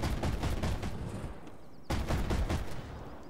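Gunfire in a video game on the Operation Hydra mission at hard difficulty, with bursts of loud repeated shots, a short lull, then another burst of steady shooting.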